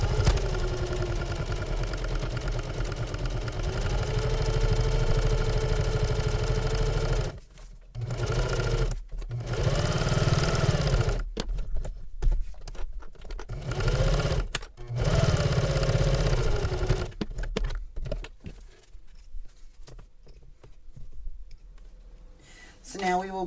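A domestic sewing machine stitches around the perimeter of a fabric travel belt, running in a loud steady hum with a few brief pauses and restarts, then stopping near the end.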